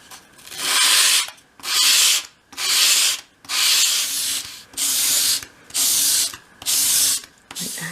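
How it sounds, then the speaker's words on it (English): Hand sanding a bevel along the edge of a 1/12 scale shop project piece with fresh sandpaper: eight even, close, hissing strokes, each about half a second long, separated by short pauses. "that was so much easier now I've treated myself to some new sandpaper"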